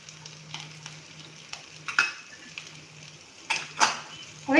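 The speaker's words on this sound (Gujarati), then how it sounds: "એમાં નાખીશું આદુ અને લીલા મરચાં." Ginger and green chillies fry in a pan, a faint, quiet sizzle broken by scattered clinks and scrapes of stirring over a low steady hum.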